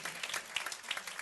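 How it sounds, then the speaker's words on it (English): A city audience applauds New Rochelle businesses during a State of the City address, a brief burst of scattered clapping, fairly faint and distant. "Sure, you can applaud the businesses in New Rochelle."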